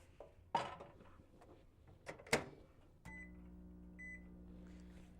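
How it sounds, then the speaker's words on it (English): A microwave oven heating cheese hums steadily after a few clicks and knocks, with faint beeps partway through its run. "Maybe a few more seconds in the microwave."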